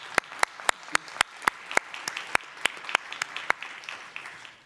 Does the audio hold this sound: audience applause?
yes